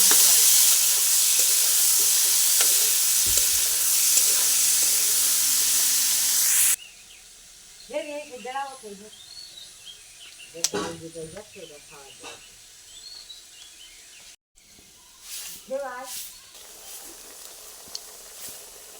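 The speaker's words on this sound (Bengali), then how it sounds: "চপগুলো কি সুন্দরভাবে ভাজা হচ্ছে, লাল লাল হয়ে গেছে পুরো" Chops deep-fry in hot oil with a loud, steady sizzling hiss at first, then quieter bubbling while a person talks over it.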